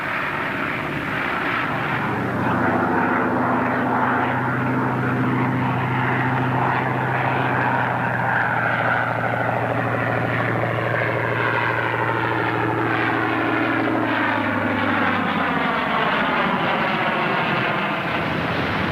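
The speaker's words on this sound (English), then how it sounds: "Margarita, ven, ahí viene el aeroplano. Vamos, muchachos, ahí viene el aeroplano." Propeller airplane engine droning steadily and loudly throughout, with a falling pitch sweep late on as the plane passes close, in a 1940 aviation setting; no talking.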